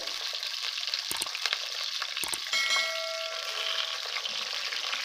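Eggplant pieces frying in ghee for borani baingan: a steady close sizzle throughout, with a few sharp metallic taps of a spoon against the pan and no voices.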